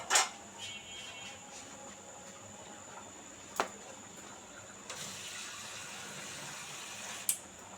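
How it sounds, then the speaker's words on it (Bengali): Water pouring steadily into a metal pan of chicken biryani, a continuous close rush with a couple of sharp clanks of utensils. "ধুয়ে 1 কাপের মতো পানি দিয়ে দিলাম"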